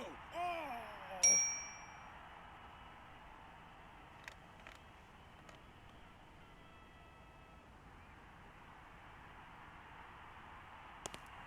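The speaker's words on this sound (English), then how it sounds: "You'll hear the bell" A single bell ding rings out early in a Syberia game scene, a bright ringing tone that decays over a second, followed by quiet ambient hiss and a few faint clicks.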